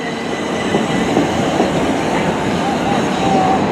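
A South Western Main Line electric multiple unit, class 444, runs through Clapham Junction station with a steady rumble and rail noise, a faint wheel squeal carrying through.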